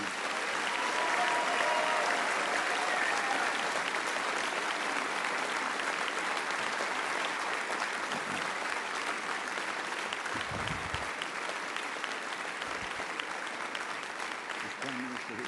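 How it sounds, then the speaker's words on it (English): A large audience in Jerusalem gives sustained, dense applause that holds at an even level for the whole stretch, many hands clapping together in a continuous wash. "Give an applause of appreciation,"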